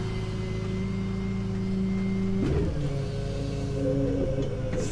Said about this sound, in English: Walk my truck forward.